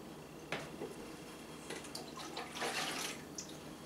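Homemade fruit brew of cherries, plums and strawberries is poured into a jug, producing faint, intermittent splashing and gurgling bursts with a stronger pour near the end, quiet and close with no talk.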